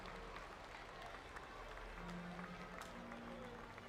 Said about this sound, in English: Give them a round of applause as they leave the arenas